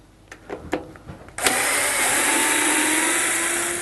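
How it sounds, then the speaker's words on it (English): A cordless driver fitted with a Torx bit works screws out of a Hotpoint washing machine, a few sharp clicks and taps first, then the motor whirs up to a loud, steady spin that holds to the end, close by. "I'm just going to use a Torx bit on the end of a driver."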